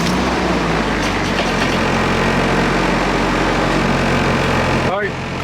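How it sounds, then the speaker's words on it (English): Car engine of a drift hatchback with its check engine light on, running at a loud steady idle, a constant low rumble filling the whole stretch. "Alright, car turned on, no problem."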